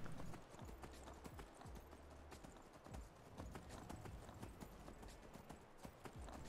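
Horse hooves clip-clop steadily in Skyrim, a quick repeated trot of moderate loudness with faint game ambience behind it and no talking.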